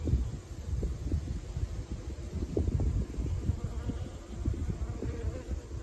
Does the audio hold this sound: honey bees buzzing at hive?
yes